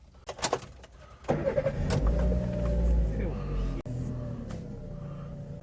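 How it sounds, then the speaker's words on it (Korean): A Chevrolet Spark light car's engine is started close by: a few brief clicks, then a loud crank that catches and settles into a steady idle rumble for the rest of the clip. "시동 소리를 한번 들어보도록 하겠습니다"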